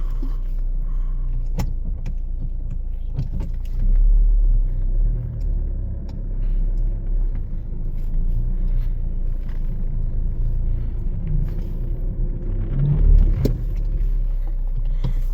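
A Jeep Compass stuck in sand, running in four-wheel-drive lock with sand mode engaged: a steady low engine rumble throughout, with heavier surges of effort and a few clunks and rattles from inside the cabin.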